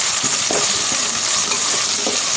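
Ginger garlic paste stirred as it fries in a pan for kushka, a steady close sizzle with scraping strokes of a spoon recurring throughout, no voices.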